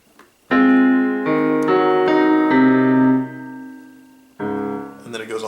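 Piano plays the final measure of a theme from Over The Garden Wall: a handful of sustained chords and notes struck one after another, ringing out loud and close, with a last chord near the end.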